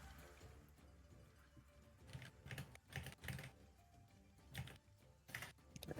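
A loud, clacky computer keyboard with several dead keys, typed on in quick bursts of close, sharp clicks over a faint background hum.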